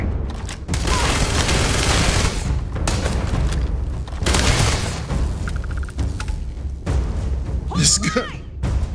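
Video game gunfire in a chaotic firefight: a dense run of booming shots and thuds, some in rapid bursts, loud and close. The player talks over much of it.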